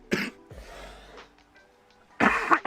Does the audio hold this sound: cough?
yes